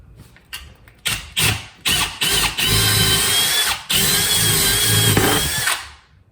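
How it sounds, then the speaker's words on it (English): A power drill whirs in several short bursts, then runs steadily as it bores a quarter-inch hole, close and loud, with brief stops between. "So you drill 1/4 inch."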